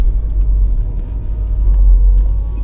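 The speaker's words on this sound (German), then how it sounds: "Dann produziert das Auto so viel Nebengeräusche, dass der Ton einfach schlecht wird." Steady, loud low-frequency road rumble and engine drone inside a car driving at higher speed on a German federal highway, continuous and close with no talking.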